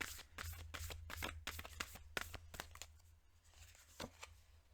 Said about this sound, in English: We're going to pull an angel love card.